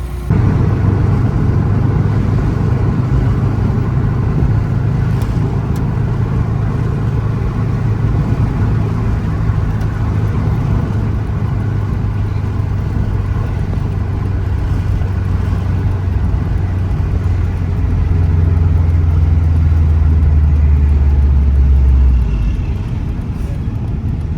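Subaru STI with an overheating problem driving along, its engine giving a steady low drone throughout that swells slightly near the end, with no talk over it.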